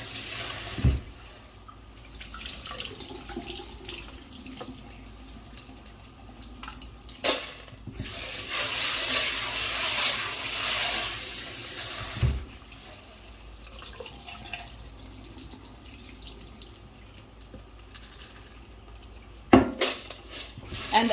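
Pork trotters being rinsed under a running kitchen tap, a steady gush of water with occasional splashes and clatters of a pot or dish, fairly close and continuous with brief pauses.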